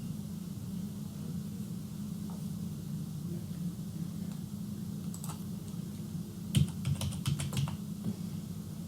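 A computer keyboard is typed on to enter a quantity, a few quiet taps followed by a quick cluster of keystrokes, heard over a steady low hum.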